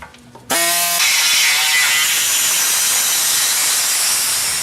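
A die grinder cuts a metal brake dust shield on a 3rd-gen Toyota 4Runner in a garage. After a short spin-up, a loud, steady, high-pitched grinding hiss runs continuously for several seconds at close range.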